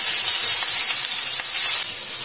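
Three medium onions frying in ghee in a pan give off a steady, bright sizzling hiss, close and fairly loud, that continues evenly with no talking.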